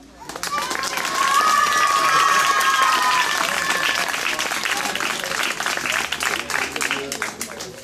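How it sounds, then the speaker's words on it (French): Sustained applause from an audience cheering children moving up from a small village school to secondary school in the Cévennes, with dense clapping rising quickly and holding steady under a faint whistle or cheer, fading slightly toward the end. "On les applaudit."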